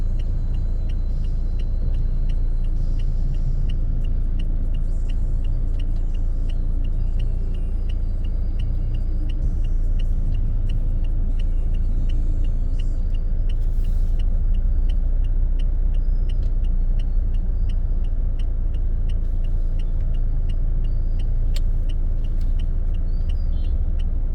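City traffic in Davao heard from inside a car: a constant low engine and road rumble with faint ticking, steady throughout with no talk.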